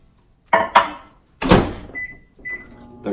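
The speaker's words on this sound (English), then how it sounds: "We're going to start by popping this chocolate into the microwave for 30 seconds." Microwave oven used to melt chocolate: door clicks and thumps shut, then a beep sounds and the oven starts with a low running hum, with more short beeps following.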